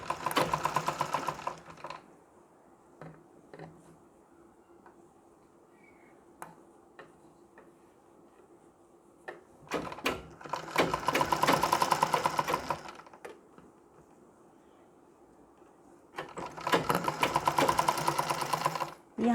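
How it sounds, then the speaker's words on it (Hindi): An electric sewing machine stitches a Nauvari saree in three loud, rapid whirring bursts separated by quieter stretches of handling fabric, with occasional soft talking. "यहाँ तक हमने सिलाई लगा ली।"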